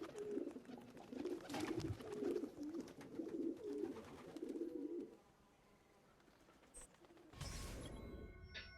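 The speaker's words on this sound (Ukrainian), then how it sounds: "Це у нас тут пташка" A bird coos like a pigeon in the Assassin's Creed 2 video game, a run of soft rhythmic low coos for several seconds, then a pause and a brief louder rustle or crash near the end.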